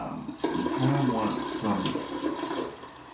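Tap water running into a sink for washing the eyes, a steady close splashing flow that begins with a sudden onset and carries on, with a person talking over it.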